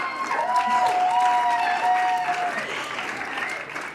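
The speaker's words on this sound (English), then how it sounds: "a huge, huge round of applause to our gala chairs" An awards gala audience gives a steady, full round of applause for the gala chairs, dense clapping throughout with a few whistle-like tones and cheers rising over it.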